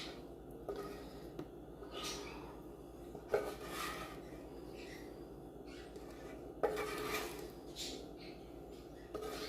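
A spatula scrapes and rubs thick brownie batter from a bowl into a 9x13 baking pan, with a few soft knocks and scrapes over quiet kitchen background.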